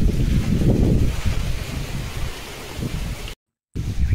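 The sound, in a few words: Kalbaishakhi storm wind in Sundarbans village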